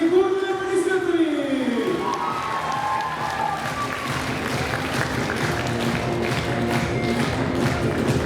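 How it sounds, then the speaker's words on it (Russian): An audience of parents applauds at a school's final-bell graduation ceremony for eleventh graders, sustained clapping filling the hall over music and an announcer's voice as the cheering swells. "Уважаемые родители, бурные аплодисменты!"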